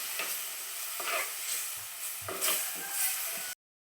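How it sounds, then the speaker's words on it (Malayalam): Tamarind water going into a sizzling pan of seer fish curry, a close hiss and spatter that flares up in bursts with soft stirring knocks, then cuts off abruptly, no voices. "ആ പുളിവെള്ളം കൂടെ ഒഴിച്ചു കൊടുക്കാം"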